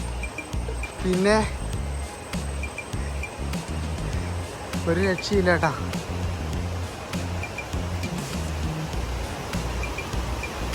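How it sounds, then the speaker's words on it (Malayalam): Meenmutty Waterfall in the Kallar forest rushes as a steady broadband roar, while someone talks over it in two brief stretches and a faint insect tone lingers in the background. "വെള്ളച്ചാട്ടത്തിൻ്റെ സൗണ്ടും ഒക്കെ ആകുമ്പോൾ"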